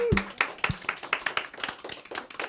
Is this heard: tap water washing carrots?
no